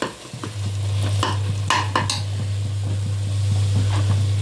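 Tempering spices for avarai kulambu fry in hot oil in a pan, a close, steady sizzle with a low hum beneath and sharp scrapes and clinks of a spoon stirring.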